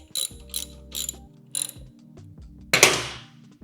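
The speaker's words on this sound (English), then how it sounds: "Boom, tighten that bolt up." A ratchet tightens a bolt on a Honda CB550 motorcycle frame during a center stand and battery box install, giving four quick bursts of clicking pawl strokes close up, then a louder scraping clatter near the end.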